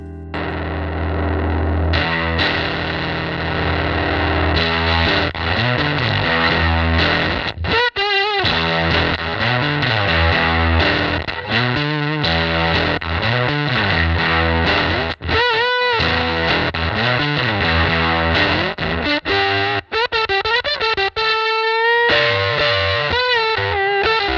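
A heavily fuzzed, distorted electric guitar or bass through a JSA Effects Porta IV cassette-style fuzz pedal plays a long wandering line, its notes warbling and sagging with a gritty, compressed, phasey tone.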